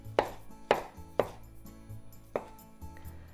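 A knife chops through mitsuba herb into short lengths for kakiage vegetable tempura, five crisp thuds on a cutting board at an uneven pace, close and clear with nothing else heard.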